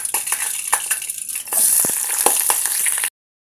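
Thinly sliced onion crackling and sizzling in hot oil in a pan for a curry, a steady bright frying hiss with scattered pops and stirring scrapes, close and continuous before cutting off.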